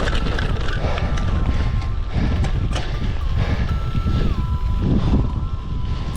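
Gusty headwind buffets a cyclist's microphone during a 200K road ride, a loud continuous rumbling roar over the whole stretch, with a steady faint tone running through it and no talking.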